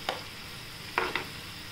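Food sautéing in oil in a pan, a low steady sizzle broken by three brief scraping stir strokes near the start and middle.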